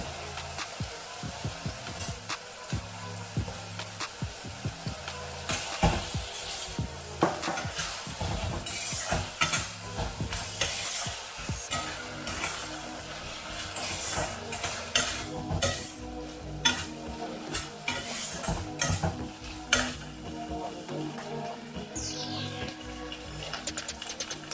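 Softened onions with ginger paste fry in a pan for a chicken dish, a steady low sizzle under frequent scraping and clinking stirs of a spoon, close and fairly quiet, with no speech.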